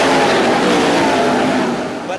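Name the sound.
race cars accelerating on the restart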